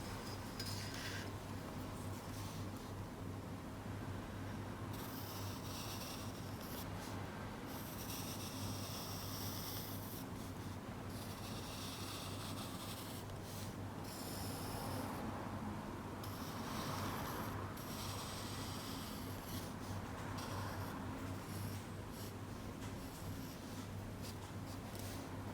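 A calligraphy pen nib drawing a Gothic blackletter line on sketchbook paper, a faint, steady scratching that runs continuously under a low background hum, with no talking.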